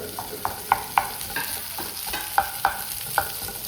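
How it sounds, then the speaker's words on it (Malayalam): Boiled potatoes being mashed into vegetables in a hot pan for chicken cutlets, with a steady sizzle under repeated sharp scraping and pressing knocks, close and clear, no talking. "ഇത് നന്നായിട്ടൊന്ന് ഉടച്ച് വെജിറ്റബിളിനൊപ്പം"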